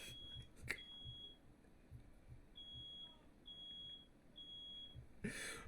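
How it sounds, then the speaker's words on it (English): A household fire alarm goes off after fireworks were set off indoors, its shrill electronic beeps repeating in short bursts with gaps, fairly faint against a low background and occasional bangs. "The fire alarm's going off and everything."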